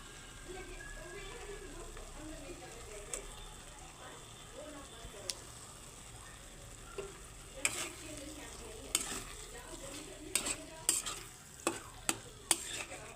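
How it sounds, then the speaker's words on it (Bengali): Minced chicken for kima ghugni fries in hot oil with a constant low sizzle, while a spatula stirs and scrapes the pan in sharp, increasingly frequent clicks toward the end. "এবারে দেব মাংসর কিমার কুচিগুলো দিয়ে দিচ্ছি"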